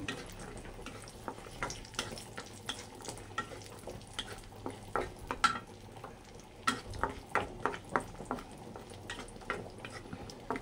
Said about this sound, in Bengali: আর কাজুটা ভাজা ভাজা হয়ে গেছে, কিশমিশগুলোকে দিয়ে দিব।